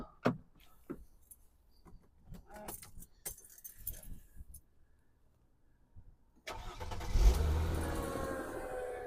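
Car engine cranking and firing up after an oil service, then settling into a loud steady idle, preceded by keys jangling and a few handling clunks.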